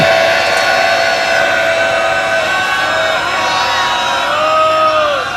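A Sikh sangat at Takhat Sri Harimandir Ji Patna Sahib roars a jaikara in unison during a katha gathering, a loud, sustained mass shout of many voices that swells steadily and ends with a rising final call.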